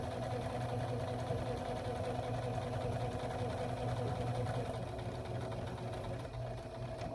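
Domestic sewing machine stitching a French seam in fabric, a steady continuous mechanical hum with a fairly even drone throughout, loud and close.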